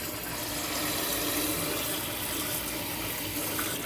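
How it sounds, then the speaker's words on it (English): Water pouring steadily from a Costway 3-in-1 water dispenser and ice maker during deep cleaning, a continuous close rushing splash with no breaks and no talking. "As you can see, water's coming out of there."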